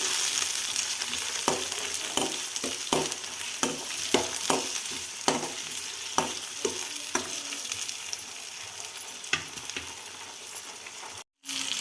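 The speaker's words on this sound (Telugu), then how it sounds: "తర్వాత టమాటాలు, పచ్చిమిర్చి వేసుకునేసి బాగా వేపేసుకోండి." Tomatoes and green chillies fry in hot oil with urad dal and mustard seeds, a steady broadband sizzle running throughout, broken by repeated sharp clacks of a spoon stirring against the pan.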